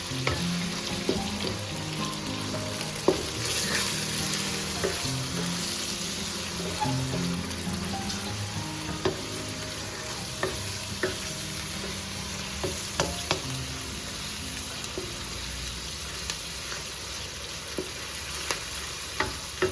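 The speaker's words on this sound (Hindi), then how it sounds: "लहसुन और प्याज के साथ इसकी थोड़ी सी भुनाई करेंगे" Steady sizzling of minced meat frying with garlic and onion in a pan, with occasional scraping and stirring clicks throughout; no talking, moderately close and continuous.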